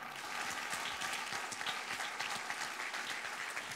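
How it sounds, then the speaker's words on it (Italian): A theatre audience at the Teatro d'Italia in Carovigno applauding lawyer Radisi, a sustained, even ripple of many hands clapping at moderate distance. "Un applauso?"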